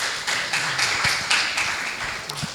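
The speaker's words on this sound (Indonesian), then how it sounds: "Tepuk tangan ini ya kan." An audience applauding at a discussion event on Gen Z politics, steady dense clapping that stays close and fairly loud throughout, with no talking over it.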